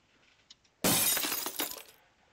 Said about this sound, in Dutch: Raampje gaat kapot.